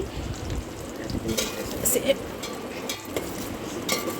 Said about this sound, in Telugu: సేమియా కేసరి కోసం ఒక వంద గ్రాముల దాకా నెయ్యి అయితే వేసుకొని జీడిపప్పులు అనేది ఫ్రై చేసుకుంటున్నానండి